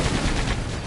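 Machine gun fire in the video game Sandland, a dense burst of rapid shots lasting under a second, loud and close.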